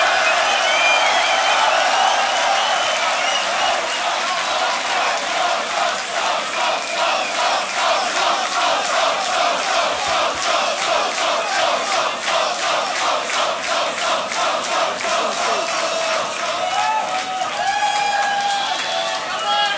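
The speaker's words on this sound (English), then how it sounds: "Make some noise for So-So right now" Audience at the Grand Beatbox Battle 2019 loopstation semi-final cheers and claps rhythmically for a beatboxer, a loud sustained roar of rapid, regular clapping with shouts mixed in throughout.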